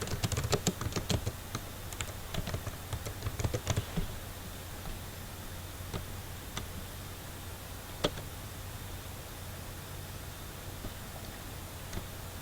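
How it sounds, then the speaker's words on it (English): Keys clatter on a computer keyboard in a quick flurry of taps, then slow to a few isolated clicks over a steady background hum, close and fairly quiet. "right here is where you would type in whatever information you want"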